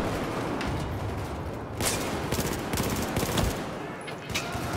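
An airburst weapon fires in the Battlefield 4 campaign, giving several loud, sharp blasts with rattling gunfire mixed in over a dense battle din.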